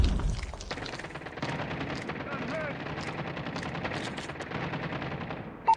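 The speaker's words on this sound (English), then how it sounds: "Friendly sentry gun deployed." A sentry gun in the Call of Duty map Nuketown 2 fires rapid bursts of automatic gunfire amid game sound effects and other shots, loud and continuous through the scene.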